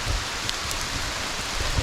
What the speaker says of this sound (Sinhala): පොඩි වැස්සක් යනවා